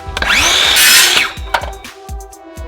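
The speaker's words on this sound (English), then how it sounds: "clamp it in place, and then once again, use the saw to get a perfect cut" Power saw cutting through a worktop during a home bar makeover: a loud close whining buzz that ramps up and sustains about a second, followed by several sharp knocks and clunks as the cut ends.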